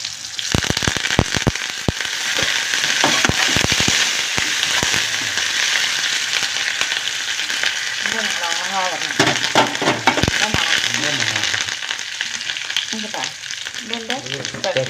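Curry leaves crackle and sizzle as they drop into hot oil with shallots and garlic for a vegetable and lentil curry, with sharp popping bursts early on that settle into a steady loud fry, and a voice speaks over it later.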